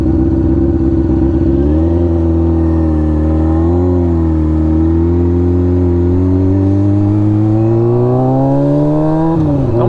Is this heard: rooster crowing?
no